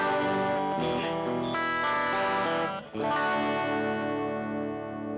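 An electric guitar on its quacky in-between pickup setting plays through an overdriven amp, giving sustained distorted chords that ring continuously with a brief dip before swelling again.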